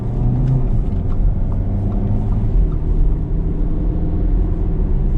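An Audi Q3 1.4 TFSI Prestige Plus driven through the city in manual mode gives a steady low engine and road rumble from inside the cabin, continuous and fairly loud, with no talking.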